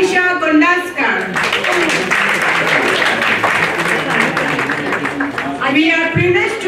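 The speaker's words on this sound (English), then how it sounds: "call upon on the stage with a huge round of applause our editor of the book" At an awards ceremony, an audience breaks into loud, dense applause for an honoree called to the stage. A voice speaks just before the clapping swells and again as it fades.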